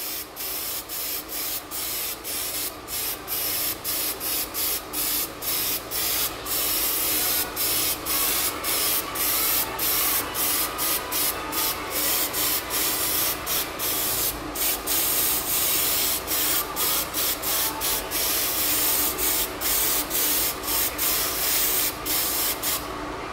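Anti-squeal spray applied to the brake pads of a Fiat Palio, a long series of close, hissing aerosol bursts in quick rhythmic pulses with a steady background rasp, loud and without talk.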